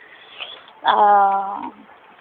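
A single drawn-out meow, close and clear, rising then fading over about a second, with faint rustling before it.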